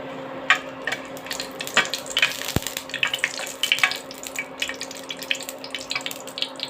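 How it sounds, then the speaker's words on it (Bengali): Dried chillies frying in mustard oil in a frying pan, a steady crackling sizzle with scattered pops and a faint hum underneath, close and fairly quiet. "সরিষার তেল দিয়ে শুকনো মরিচ ভেজে নেব।"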